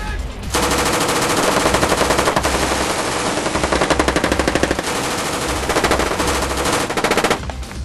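Naval crew firing machine guns aboard HMS Brocklesbury during a weapons exercise: loud, sustained rapid bursts of automatic fire with short pauses between strings of shots, close and dominating.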